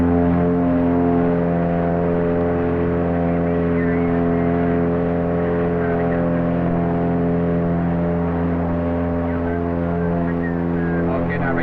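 Twin piston engines of a small training aircraft in Canada run up together at full throttle, a loud, steady, close droning roar that holds evenly throughout with no one speaking.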